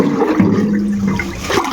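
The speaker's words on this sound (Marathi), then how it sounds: "आता हौदातलं पाणी घेतो." Water drawn from a household water tank, a short continuous splashing gush of water, close and fairly loud, alone without talk.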